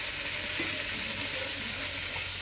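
Turmeric is stirred into a frying pan while cooking barramundi fish, giving an even, close sizzle with a faint rattling, scraping texture and no voices.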